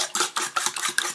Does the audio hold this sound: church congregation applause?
no